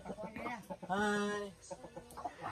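Chickens cluck and call up close in a Filipino home kitchen, their short harmonic cries stacking into a longer sustained squawk in the middle, while someone speaks briefly over them.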